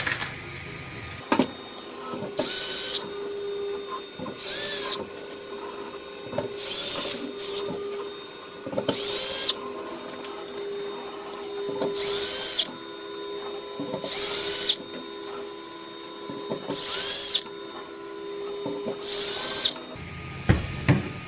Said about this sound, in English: secure those with 8 M4 bolts